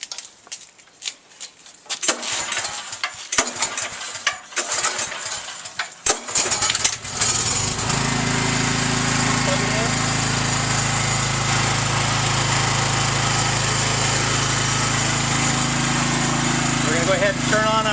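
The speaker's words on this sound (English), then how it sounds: "We're going to start our generator." A portable generator backfeeding a home panel is pulled to start after a few tries, then catches and settles into a loud, steady engine drone that runs without a break to the end.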